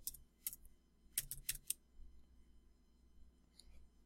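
Soft keystrokes on a computer keyboard: a handful of light, close clicks in short bursts with brief pauses, quiet and without talking.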